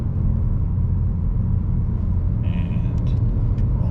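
A 2022 Honda Civic Si engine pulls steadily in second gear, a loud, close, continuous low rumble with faint higher sounds near the end.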